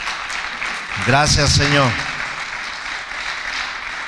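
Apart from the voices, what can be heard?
church congregation applause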